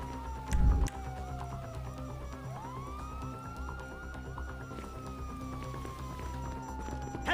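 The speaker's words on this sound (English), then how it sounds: "Hear that? Sirens!" Police sirens in the video game GTA 5 wail, sweeping up and down continuously, loud and close, with a low rumbling thump near the start and a steady hum underneath.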